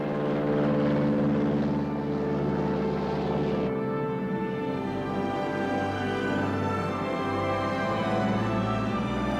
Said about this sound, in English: A pontoon raft allowed us to position the cameras close to the plane's takeoff point.